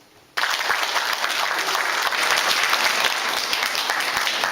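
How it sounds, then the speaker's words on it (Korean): Audience applause after a lecture on local food at an event in Wanju, a sudden loud burst of clapping from a crowd that stays dense and steady. "훌륭한 강의를 해주신 안대성 대표님께 큰 박수 부탁드립니다"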